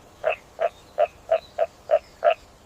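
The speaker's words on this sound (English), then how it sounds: "You got it. It's a frog." A pond frog croaks seven times in an even, rapid rhythm, each call a short nasal burst, close and clear against a quiet background.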